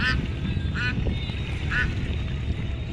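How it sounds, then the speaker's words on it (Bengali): Two ducks near a riverbank, three short nasal quacks spaced about a second apart over a steady rush of wind, fairly close. "এখানে দুটো হাঁস দেখা গেল"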